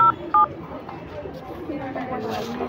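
A mobile phone keypad sounds two quick dialing beeps at the start, then people talk and chatter nearby with general background noise.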